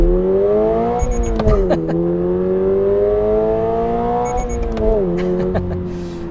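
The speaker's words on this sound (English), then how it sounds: "But I'll leave you with an acceleration here." A 2026 Toyota GR86 with a GR Performance exhaust accelerates hard, its engine note climbing steadily and dropping at two quick upshifts, loud and close throughout.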